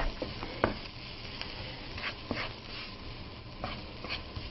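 Onions sizzle in a skillet, a constant frying hiss broken by sharp scrapes and clicks of a utensil stirring them.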